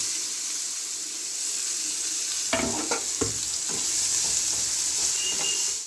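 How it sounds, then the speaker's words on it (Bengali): Finely chopped onions hit hot mustard oil left from frying fish for a Bengali fish curry, raising a loud, steady sizzle, and a few clattering stirs follow midway, with no voices. "দিয়ে দিচ্ছি পেঁয়াজটাকে ভেজে নেব"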